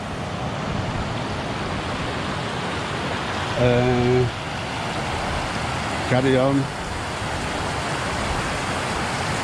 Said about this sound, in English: It's a steady flow of water.